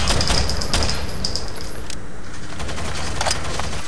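FAMAS rifle fire during a terrorist hunt in a video game, a loud, dense and continuous stream of rapid shots filling the whole stretch without a break.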